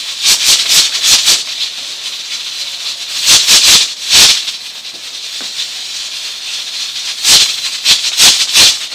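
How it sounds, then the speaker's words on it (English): Weighted jiggler on a stovetop pressure cooker cooking soup beans rocks and hisses in loud, rhythmic bursts of steam, clustered near the start, middle and end, with a steady softer hiss between them. "it's got to be a steady rocking motion"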